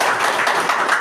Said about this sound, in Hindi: आप सब लोग अपने लिए ताली बजा लीजिए